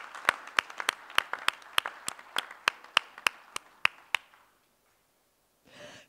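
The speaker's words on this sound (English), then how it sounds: "Ladies and gentlemen, a big round of applause for Amit" A small audience at a technology security conference claps for a prize winner: a steady run of distinct, evenly spaced claps for about four seconds, then quiet and a brief faint sound at the end.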